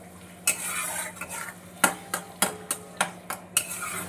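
Spice paste is cooked with fried ingredients in oil as a utensil stirs and scrapes, striking the pan in a run of sharp, fairly regular clanks over a low steady sizzle, close by and without talk.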